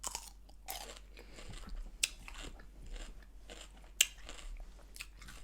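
Close, crisp bites and wet crunchy chewing of a fresh cucumber, with a few sharp snaps standing out among steady munching in a quiet room.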